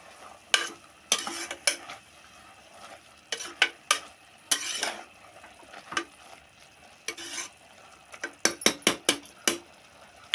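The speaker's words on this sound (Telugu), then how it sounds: "ఇప్పుడు ఒకసారి కలుపుకొని చూసారా ఎలా ఉడికిందో చూసారా" A spoon stirs kalagura, a leafy vegetable curry, in a pot, making repeated scraping and clinking strokes against the metal in short bursts with a soft simmer between them, heard close with no talking.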